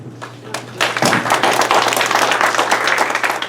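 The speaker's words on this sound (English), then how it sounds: "hold your applause until the end for the remainder of the forum" Audience applause at a highway superintendent candidates' forum, starting as scattered claps and swelling into steady, dense clapping from a room of people that fills the rest of the moment.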